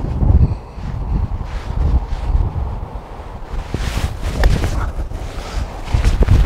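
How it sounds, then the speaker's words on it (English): Gusty wind buffets a microphone outdoors on a golf course, a low rumbling roar that swells and fades throughout, louder in the final seconds. "that wind's in my face now"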